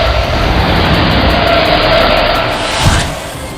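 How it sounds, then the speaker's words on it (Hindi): Car driven fast, a steady loud broadband rush of engine and road noise holding throughout with a slight swell near the end; no talking. "मनोज गाड़ी को तेज रफ्तार से लेकर जा रहा है"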